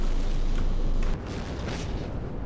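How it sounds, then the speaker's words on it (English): A heavy explosion in the multiplayer war game Empires, a loud, dense roaring blast that fills the clip and then eases slightly into a rumbling tail, with no talk over it. "I'm gonna explode it."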